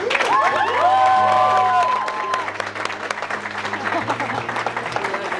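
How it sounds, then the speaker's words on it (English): An audience applauds leaders receiving a gift at a network marketing event, steady clapping and some cheering throughout, with tonal sliding sounds and a low hum layered over the crowd noise. "if you guys just give them a round of applause, please"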